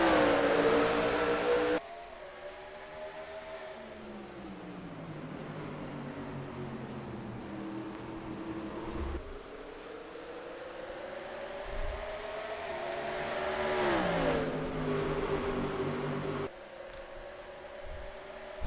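Race cars roar around Watkins Glen in a sim racing league's Axalta 355 race, engine tones rising and falling in pitch as they pass. A loud burst opens, then a steadier drone swells and fades.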